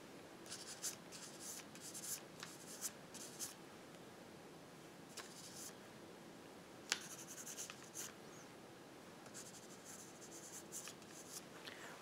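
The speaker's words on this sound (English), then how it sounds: "Just gotta write down the results" A pen scratches on paper in close, soft strokes, recording exam results during an ASMR cranial nerve exam roleplay; the writing comes in quick bursts with brief pauses and no talking.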